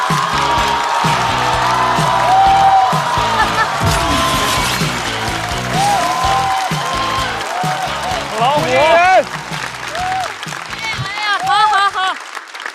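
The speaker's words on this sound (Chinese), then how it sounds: "让我们掌声欢迎步惊云" A stand-up comedy audience breaks into loud, sustained applause with some cheering to welcome the next comedian, while a host speaks over the clapping and music rises near the end.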